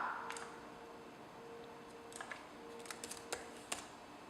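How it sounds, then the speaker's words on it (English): Sparse, soft keyboard clicks tapping at an irregular pace in a quiet room, a few keystrokes close together near the end. "You'll start by opening the document and typing the month at the top."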